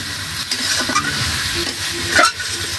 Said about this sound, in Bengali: এই মাংসটা সুন্দর করে নাড়িয়ে চালিয়ে কষিয়ে নিব